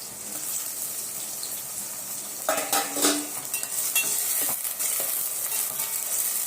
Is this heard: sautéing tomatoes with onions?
yes